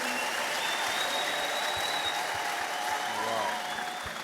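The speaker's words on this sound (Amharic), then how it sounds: "አጨብጭቡልኝ።" A church congregation at a prophetic testimony service claps steadily, a moderate, continuous patter of many hands with some faint crowd murmur and low thumps underneath.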